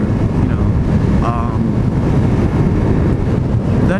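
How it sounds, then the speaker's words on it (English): Steady wind rushes and buffets a microphone outdoors, a loud, continuous roar filling the clip without a break. "Wind's blowing"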